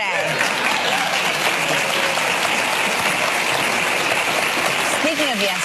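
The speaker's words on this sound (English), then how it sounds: "That was such a weird extended applause for no reason." Studio audience applause fills a live television talk show, a dense, loud, continuous clapping that holds steady throughout, with voices faintly mixed in.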